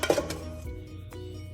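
A metal spoon clinks against a bowl while scooping white filling for tortillas, a few bright close taps that fade into quiet room noise.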